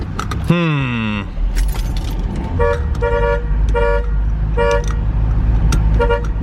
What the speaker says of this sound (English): Why isn't this horn working?